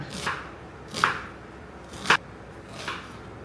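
A knife chops an onion on a board while spaghetti is being cooked, four sharp distinct cuts spaced about a second apart, close and clear with no talking.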